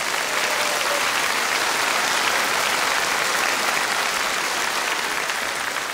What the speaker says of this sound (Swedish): En applåd för hans tenor!